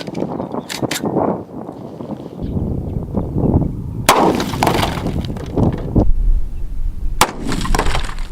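Heavy .50 AE Desert Eagle pistol shots strike a cinder block, giving sharp, loud cracks with breaking, shattering debris, several bursts spread across the stretch.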